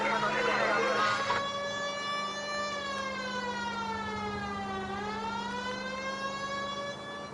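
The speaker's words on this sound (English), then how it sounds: "I've always found the siren useful in situations like this." A police car siren from the video game L.A. Noire wails loudly and steadily, sweeping down and back up in pitch, with a brief burst of noise at the start.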